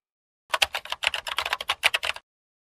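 Rapid typing on a computer keyboard, a quick close burst of about twenty clicky keystrokes in an uneven rhythm lasting under two seconds, then silence.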